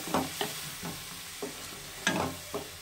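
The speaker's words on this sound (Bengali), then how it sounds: "মশলাটা ভালো করে কষিয়ে নেব।" Spices being sautéed in a pan for a fish curry, with a spatula stirring: several distinct scraping strokes at uneven intervals over a soft, continuous sizzle, close and moderately quiet, no voices.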